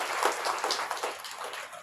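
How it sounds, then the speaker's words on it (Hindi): Short, steady burst of audience clapping at an International Women Empowerment Festival event, honoring the organizing committee; moderately loud and continuous without talk. "तो मैं एक बार चाहूंगा कि आयोजन समिति के लिए जोरदार तालियां बजाएं।"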